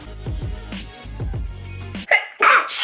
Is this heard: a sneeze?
yes